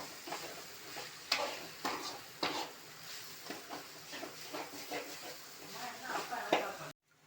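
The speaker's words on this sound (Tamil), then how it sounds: "நல்லா வந்து காய் வதங்கிடுச்சு." Vegetables and masala sauté in a pan for egg fried rice, giving a soft sizzle with intermittent scraping and stirring clicks of a spatula, fairly quiet and close.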